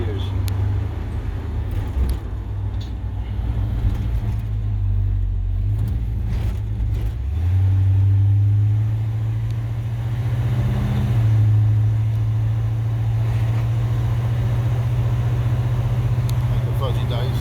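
A 1956 Chevrolet 150 two-door wagon drones steadily from inside the cabin during a ride, its low engine hum shifting to a higher, smoother pitch partway through.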